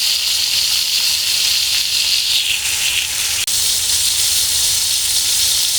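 Pointed gourd (potol) pieces coated with salt, turmeric and spices frying in a wok: a loud, steady hiss of hot oil throughout, close by, with one brief tick in the middle and no speech.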